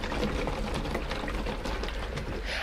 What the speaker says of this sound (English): So put it out in the sunlight and we give it a little drink of water.